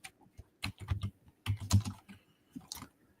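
Fast bursts of keystrokes on a computer keyboard, close and fairly quiet, coming in uneven clusters with short pauses between them.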